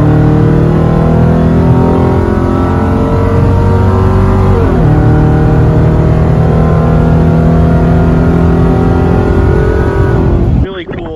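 Hellcat supercharger fitted to a 5.7 Hemi engine running loud and close, a dense steady roar with a brief dip in pitch midway before cutting off abruptly at the end.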